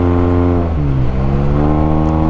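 A Yamaha TMAX 560 scooter with a Malossi full-system exhaust revs loudly up close, its deep, bassy note dipping briefly and then climbing back in pitch.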